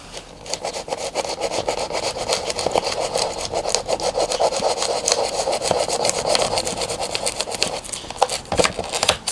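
A hand saw rasps back and forth through glue on a Warbirds Replicas Hawker Tempest model airframe, a close, steady series of rhythmic scraping strokes with no voices.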